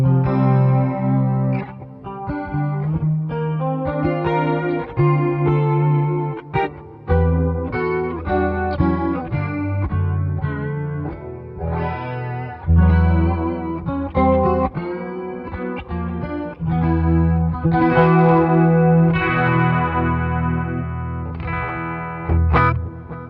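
Electric guitar through a TC Electronic chorus effect, shimmering, plays a flowing melodic passage with chords and single notes, continuous and fairly loud, no talking.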